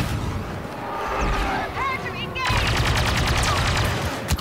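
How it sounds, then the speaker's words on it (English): Heavy weapons fire in Star Wars Battlefront 2, an indoor firefight with sustained rapid rattling bursts and booming shots swelling in the second half, with a voice talking over the combat. "Why is he shooting rockets in here?"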